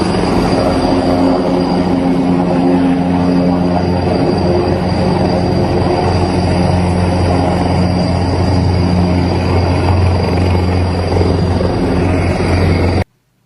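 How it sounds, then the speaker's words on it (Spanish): At least two military helicopters fly over the area during an armed forces operation in Durango, Mexico, producing a loud, steady rotor and engine drone that holds for the whole stretch before cutting off abruptly. "Habitantes videograbaron al menos 2 helicópteros sobrevolando la zona"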